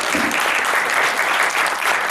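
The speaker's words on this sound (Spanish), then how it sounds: "Un aplauso, por favor" A conference audience breaks into dense, continuous applause, loud and close, holding steady throughout with no speech over it.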